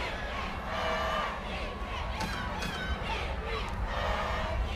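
A stadium crowd at a high school football game, Parker versus Hoover, roars and shouts for the defense, a dense sustained cheer with scattered yells and whistles.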